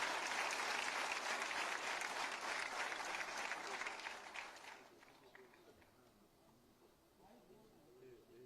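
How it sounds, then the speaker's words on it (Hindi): An audience at a government ceremony in Uttar Pradesh claps loudly and densely for several seconds, then the applause thins out and fades away. "जोरदार तालियों के प्रणाम निवेदित करते हुए"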